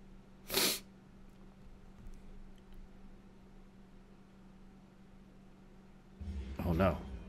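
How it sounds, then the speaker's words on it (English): A person sneezes sharply close to the mic during NieR: Automata gameplay, a loud burst near the start, then a second snorting sneeze-like burst near the end over low steady game hum. "Ugh, sorry about my sneeze."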